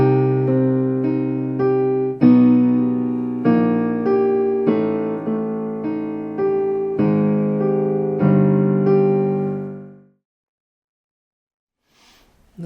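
Both hands play a piano arrangement of a song, steady sustained chords struck every second or so for about ten seconds, then ringing out into silence.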